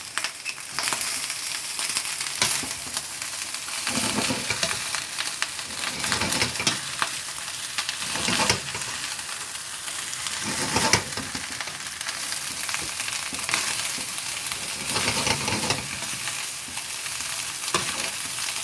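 Egg fried rice with prawns, asparagus and chilli sizzles steadily in a hot pan and is stirred and scraped over and over, a close, continuous hiss broken by rhythmic scraping strokes, with no voices.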